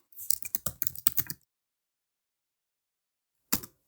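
JavaScript code typed on a computer keyboard: a rapid, close burst of keystroke clicks for about a second and a half, then silence, then a few final taps near the end.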